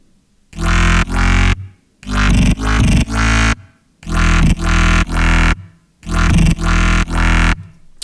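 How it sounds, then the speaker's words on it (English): A loud, squelchy electro house bass synth, made in Reason, plays a repeating pattern of punchy notes, with short gaps of silence between each phrase. "create a Squelchy Electro House bass synth"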